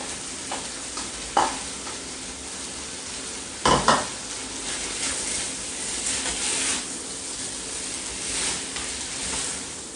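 Potatoes and minced meat for a meat pie filling are stirred in a frying pan: a continuous sizzle broken by a few sharp spoon-on-pan scrapes and knocks.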